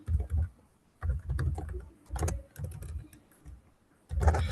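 Bursts of typing on a computer keyboard come in several separate clusters of rapid clicks and clacks, close and fairly loud, with quiet pauses in between.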